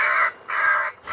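Recorded gull distress calls broadcast by an airport bird-scaring system, three loud harsh squawks in quick succession, each about a third of a second, separated by brief gaps, with no other sound.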